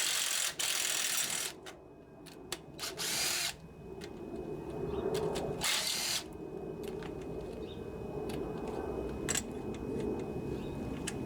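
An impact tool or power driver loosens head bolts on a vintage 8 hp Briggs and Stratton engine from a Snapper riding mower, firing in short loud bursts early on, followed by lower mechanical whirring and clicking.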